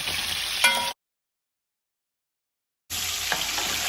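Sausage and ripe plantain fry in a Dutch pot with a soft, steady sizzle and a faint clink, broken by about two seconds of total silence before the frying hiss returns.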